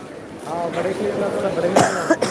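A voice speaks briefly, then a sharp cough bursts out, followed by a second short cough, close to the microphone.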